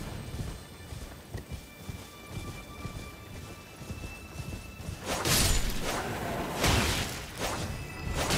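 Horse hooves pound the ground in Elden Ring Shadow of the Erdtree while riding into a brambly area near the Finger Ruins. The steady clatter of the gallop swells midway into heavier rumbling bursts and plays with no talk.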